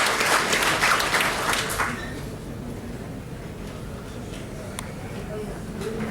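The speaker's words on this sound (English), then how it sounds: "So I think that deserves a round of applause as well." An audience applauds at an event honoring gold medalists, a burst of clapping for about two seconds that then fades, leaving quieter room noise with voices underneath.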